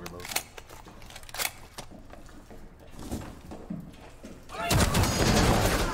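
Gunfire in a hostage-rescue shooter video game, with scattered sharp shots early on and then a loud, dense burst of firing near the end, mixed with ongoing voices and game chatter.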